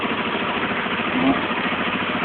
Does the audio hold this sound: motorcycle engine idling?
yes